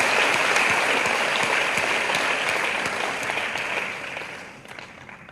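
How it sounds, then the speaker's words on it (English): A crowd of young summit participants applauds themselves in steady, dense clapping that holds for several seconds and then gradually fades. "Give yourselves a round of applause."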